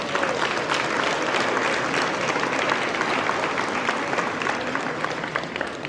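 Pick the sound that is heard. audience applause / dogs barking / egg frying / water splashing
audience applause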